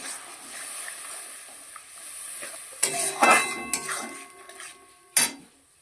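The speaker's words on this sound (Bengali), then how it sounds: "এবার আমি জল দিয়ে দিচ্ছি" Water poured onto a sizzling spice paste in a pan, with a faint hiss followed by several sharp clanks of a utensil against the metal pan, close and moderately loud.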